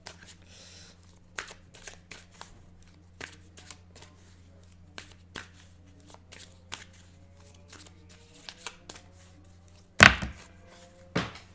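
Tarot cards being shuffled, with a steady run of soft riffling and card flicks over a low background hum, then a couple of louder bursts of handling near the end.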